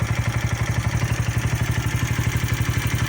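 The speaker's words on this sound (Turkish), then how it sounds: "Yavaşça debriyajımızı bıraktığımız zaman gördüğünüz gibi motorumuz gitmeye başlar." An Arora motorcycle engine runs in a steady, loud, close putter with an even rapid pulse as the clutch is let out to pull away.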